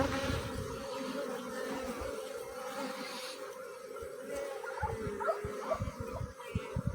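Honeybees swarm around a hive with a newly introduced queen, a dense continuous buzzing close by with fluctuating intensity and some low rustling underneath.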